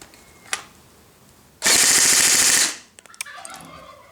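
An ICS CXP.08 airsoft electric gun, powered by a 9.6-volt 1400 mAh battery, fires a loud, rapid full-auto burst of about one second over a chronograph, with a few faint clicks and handling noises before and after.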